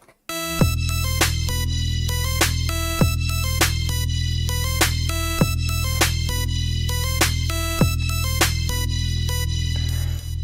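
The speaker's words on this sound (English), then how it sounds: "it sounds like this, kind of staccato-y." Short, clipped synth notes repeat in a steady rhythm over a thick sustained bass, each stab punchy and detached.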